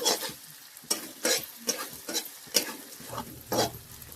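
A ginger, garlic and coconut paste sautés in a pan. Close, distinct scraping stir strokes, about eight in four seconds, sit over a light sizzle.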